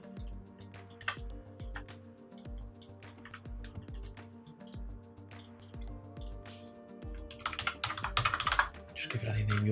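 Steady typing on a computer keyboard at close range, a run of quick clicking keystrokes with a few heavier taps, continuing throughout against a low background hum, with a brief burst of clicks near the end.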